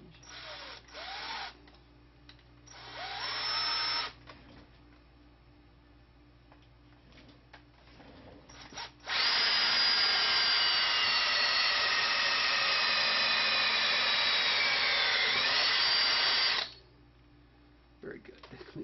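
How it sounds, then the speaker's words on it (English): A power drill bores holes in a gummy alloy shell clamped in a lug drill jig, running in short bursts and then one long steady whine of about eight seconds, close and loud between quieter pauses. "So we can drill these holes."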